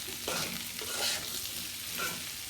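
Potatoes stirred with ginger-garlic paste in hot oil, a steady loud sizzle under repeated scraping strokes of a spatula in the pan, close and continuous with no talking.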